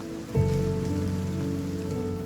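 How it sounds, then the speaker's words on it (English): Rain falls outside in a radio drama, a steady wash of patter that starts abruptly and carries on under sustained low musical tones. "They turn together to watch the rain outside"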